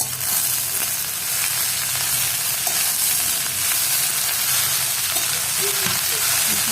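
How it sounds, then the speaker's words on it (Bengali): Gima greens frying with potatoes in a hot pan: a loud, continuous close sizzle and crackle with occasional stirring scrapes, no voices. "ডিমা শাকটা ভালো করে ওর সঙ্গে ভেজে নিচ্ছি আলুর সঙ্গে।"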